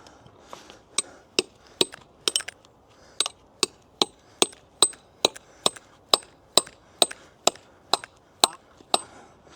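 A hammer strikes a chisel again and again, trying to break into a building: about twenty crisp, sharp blows in a steady, fairly quick rhythm, close by and with no talking.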